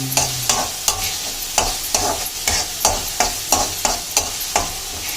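Vegetables for veg cutlets sizzle in a pan while a utensil stirs them, with regular scraping strokes about twice a second and a steady frying hiss underneath.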